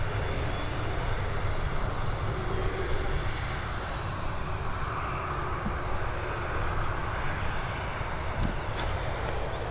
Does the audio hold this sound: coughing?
no